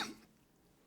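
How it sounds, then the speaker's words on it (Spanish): A single short, breathy cough from a speaker recovering from pneumonia, quiet and close, fading quickly into near silence. "estoy por un poco de tos porque estoy pasando un estado de neumonía"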